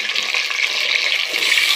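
Whole peeled shallots, about 150 grams, tipped into hot oil with fried fenugreek seeds for a dry fish curry, giving a loud, steady, close sizzle with no talking.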